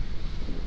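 Storm wind gusting hard on a Baltic Sea island during a hurricane, a dense, rumbling roar buffeting the microphone without pause.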